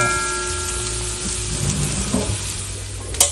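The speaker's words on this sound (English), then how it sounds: "So I'm just gonna give it a couple minutes to saute." Fish sautéing in a pan for Jamaican brown stew fish, a steady soft sizzle and crackle with a brief clink of utensil toward the end.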